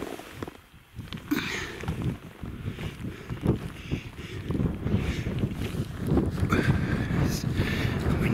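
Strong gusting wind on an open hilltop, Windy Gyle in the Cheviot Hills, buffets the microphone in loud, uneven roaring bursts, with no voices heard.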